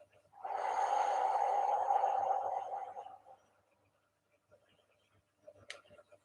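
One slow, deep breath blown out during a guided relaxation exercise, a soft, steady rush of air lasting about two and a half seconds, close to the microphone, then near quiet with faint small sounds.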